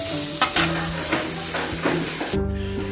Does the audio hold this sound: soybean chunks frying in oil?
yes